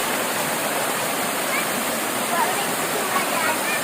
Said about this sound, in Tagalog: Nag-abot sa sapa si Mimi!